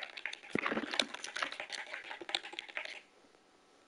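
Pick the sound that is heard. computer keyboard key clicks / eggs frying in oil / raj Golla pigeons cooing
computer keyboard key clicks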